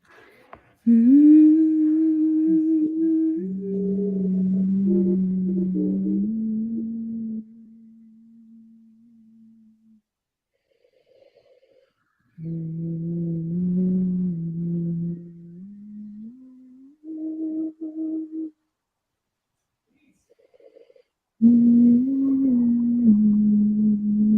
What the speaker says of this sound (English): begin to hum. And make sure you change your pitch as you project your hum